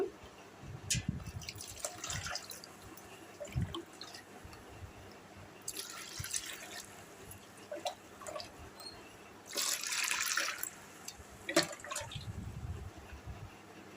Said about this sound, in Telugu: ఇప్పుడు ఈ నీళ్ళు పోసి నేను కంఫర్ట్ తయారు చేస్తాను